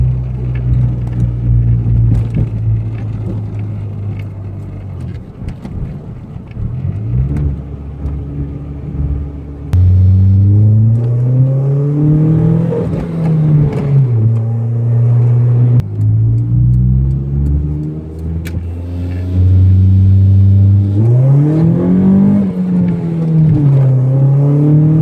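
A torquey car revs and accelerates hard while being driven, its engine note climbing through gears in repeated rising sweeps, loud and close with a deep rumble underneath.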